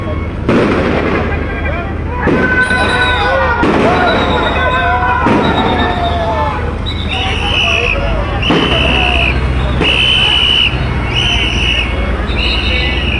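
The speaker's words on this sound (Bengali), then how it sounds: "পুলিশ গুলি করছে" Police gunfire: repeated sharp bangs ring out several seconds apart amid a noisy crowd of students and protesters at Court Point, Sylhet, with shouting voices and echoing blasts nearby.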